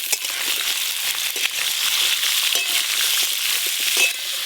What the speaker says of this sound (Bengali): ওলকপিগুলো লবণ হলুদ দিয়ে খুব ভালো করে ভেজে নেব